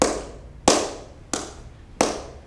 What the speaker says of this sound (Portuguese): Eu dou mais acento na primeira palma.